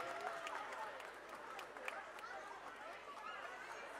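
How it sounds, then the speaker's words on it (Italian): Audience applause fills an ice rink at a skating gala in Covo, near Bergamo, a steady broad wash of clapping from a large crowd with murmuring and a few voices mixed in throughout. "ancora un ultimo applauso in uscita"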